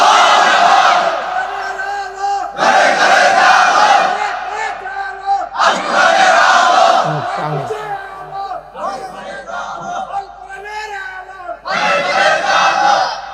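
A large crowd at a religious sermon gathering shouts a takbir slogan in loud unison bursts, several roaring chants separated by brief pauses, with a lone voice leading between them.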